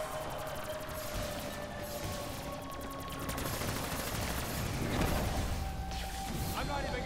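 Rapid gunfire rattles almost without pause through a Call of Duty Shadows of Evil zombies match, with dense crackling shots over a steady background din and players talking faintly underneath.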